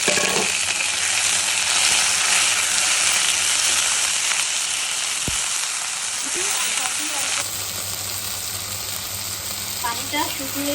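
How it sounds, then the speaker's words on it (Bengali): Onion, garlic and chillies fry in a pan with tomatoes added, making a steady close sizzle with stirring scrapes throughout, for Chittagong-style kachki shutki (dried small fish) bhuna. "যখন পেঁয়াজ রসুন মরিচগুলো এরকম করে হালকা ভাজা হয়ে যাবে, ওই সময় আমি দিয়ে দিব টমেটোগুলো"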